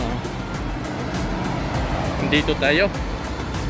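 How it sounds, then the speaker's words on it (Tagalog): Busy road traffic in Jeddah, a steady roar of cars passing close by, with people talking over it. "ang daming sasakyan."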